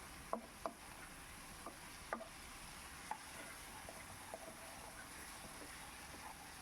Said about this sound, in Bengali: আর অ্যাড করে দিচ্ছি ভেজে রাখা আলু মশলার সাথে ভালো করে কষে নিতে হবে